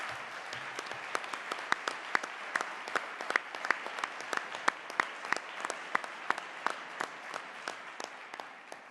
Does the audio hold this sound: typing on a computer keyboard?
no